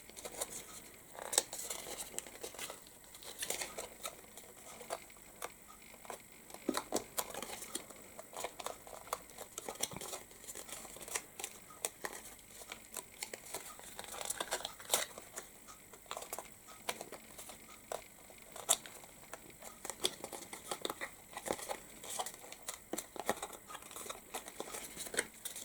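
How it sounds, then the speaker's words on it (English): Quiet, close crinkling and patting of card as glue tabs on a craft star box are folded, soft irregular creases and taps continuing throughout. "Quite a bit of folding, but it really is worth it to do all of the folding right now."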